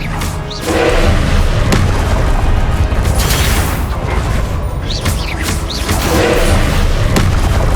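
Repeated booming blasts from the Confringo spell in Hogwarts Legacy during a combat trial, heavy thuds landing one after another in a dense, loud, continuous battle din.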